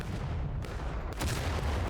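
Artillery cannons fire in a War of Rights public match, distant heavy booms and rumbling thuds under a constant low battlefield roar, with one stronger blast partway through.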